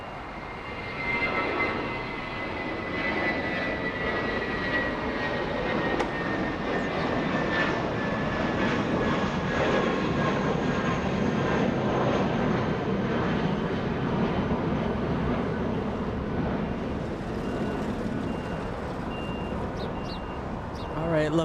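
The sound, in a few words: airplane engines at Los Angeles International Airport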